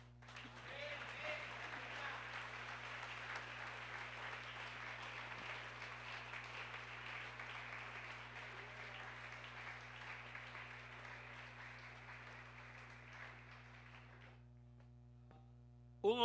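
Sustained applause from a church congregation at a communion service, steady and dense for about fourteen seconds before fading out, with a low steady hum underneath.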